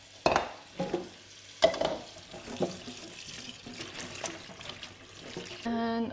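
Fresh chillies are swished by hand through water with apple cider vinegar in a sink. The splashes and sloshes come in uneven bursts, close and fairly loud, with quieter trickling between them and a short tonal hum at the end.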